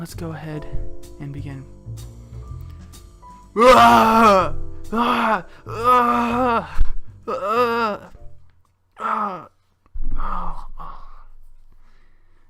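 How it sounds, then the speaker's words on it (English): Sound effect of the Hulk turning back into Bruce Banner: a deep groan followed by a series of strained moans and sighs, rising and falling in separate bursts and fading, with brief speech at the start. "And that was the sound of the Hulk turning back into Bruce Banner."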